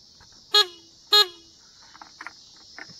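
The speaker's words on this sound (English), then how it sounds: "And your horn's pretty loud." A Honda Ruckus scooter horn honks twice in quick succession, loud and close, then a few faint clicks and taps follow.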